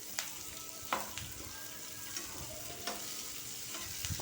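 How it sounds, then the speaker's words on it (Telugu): Onions frying together with mixed vegetables such as okra, carrot and radish in a pan, giving a steady soft sizzle with occasional stirring scrapes and clinks, fairly quiet and close, no voices. "చూడండి, వేగుతున్నారు కదా. ఈ మాత్రం వేగితే చాలు."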